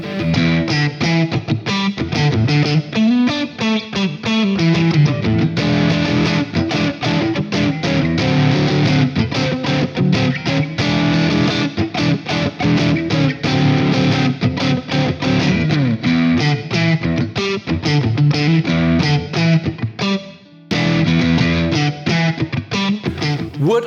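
A Fender American Vintage II 61 Stratocaster electric guitar with a nitro finish plays through heavy distortion, a sustained driven riff with chords and single notes running loud and continuous, briefly cutting out near the end.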